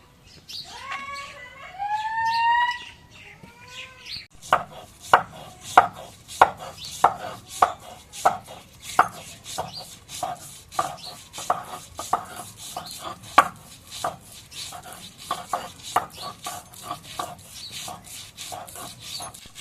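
Soaked lentils are ground on a grinding stone in repeated sharp scraping strokes, in a steady rhythm of roughly one per second, close and clear, after a few seconds of bird-like chirping.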